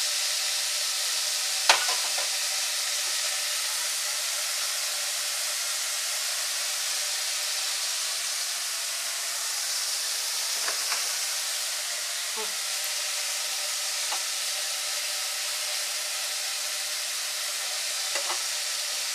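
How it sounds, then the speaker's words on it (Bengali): Prawns frying in a pan for a home-cooked Bengali dish of taro leaves, giving a steady loud hiss and sizzle with a few faint clinks of stirring, and no talk over it. "আমার চিংড়ি মাছটা ভাজা হয়ে গেছে"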